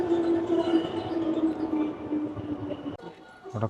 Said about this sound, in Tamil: இதான் ட்ரெயின் நினைக்கிறேன்.